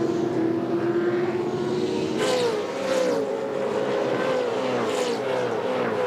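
Several V8 Supercars racing at the Queensland 300 in 2005 roar past toward turn 6, loud sustained engine drone with rising and falling pitch as they pass and shift, continuous throughout.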